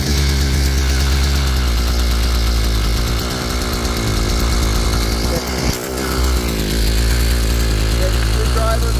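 Gas-powered Thunderbay Y43 earth auger engine running at a fast, overly high idle during carburetor repair, a loud steady buzzing drone throughout with a brief dip near the middle and a voice talking over it.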